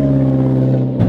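An Alfa Romeo 4C sports car with a carbon finish hums with a loud, steady low engine drone from inside the cabin, then picks up slightly as it starts to pull away.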